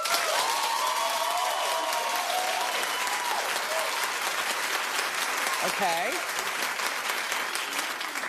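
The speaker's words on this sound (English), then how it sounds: "Clap if you want Sam to win." A studio audience at a daytime talk show claps steadily and loudly throughout, a close wash of applause with a brief spoken word over it.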